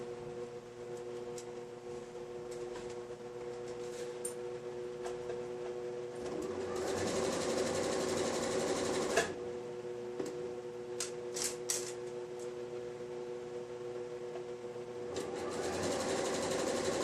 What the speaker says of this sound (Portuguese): agora eu só vou passar na máquina essa parte aqui